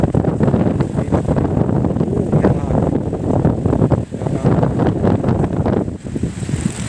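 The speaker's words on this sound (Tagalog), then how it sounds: "pumapasok yung hangin." Strong gusts of storm wind buffet a beach resort, roaring steadily and rumbling against the microphone, with voices heard faintly underneath.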